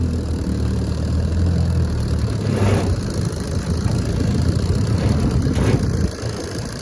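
A 1968 9.5 HP Evinrude outboard motor runs steadily on a lake test, a constant droning engine hum with no talking.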